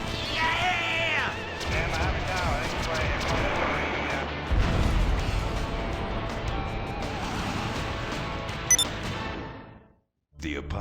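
Airstrike explosions in a GTA video game, a heavy booming blast midway amid rumbling battle noise and scattered impacts, loud, with voices talking over it before a brief drop to near silence at the end.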